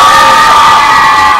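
Children shouting and cheering at a music launch event, a loud, dense and sustained crowd roar of high voices that holds steady throughout without a break.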